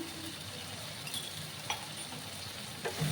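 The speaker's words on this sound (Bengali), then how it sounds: "ভালো করে আমি কষিয়ে নেব" Half a spoon of coriander powder and a spoon of Kashmiri chili powder sautéing in a pan with small shrimp, a steady close sizzle and hiss with occasional scraping stirs and clinks, no voices.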